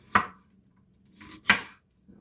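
A knife slices onions on a cutting board in two distinct sharp chops about a second apart, close and crisp, with a faint third tap at the end.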